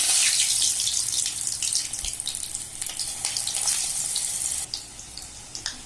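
Egg bonda batter drops into hot oil and sizzles steadily, a bright crackling hiss with scattered pops that stays loud and close and eases slightly toward the end.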